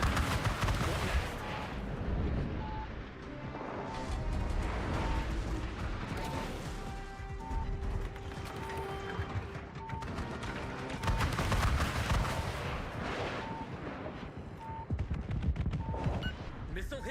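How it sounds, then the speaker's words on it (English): Scud missiles striking targets in a war video game: dense, repeated explosive blasts and gunfire-like booms, loud and continuous, with a voice talking over the barrage. "Seem to be doing a whole lot of damage doing my scud missiles."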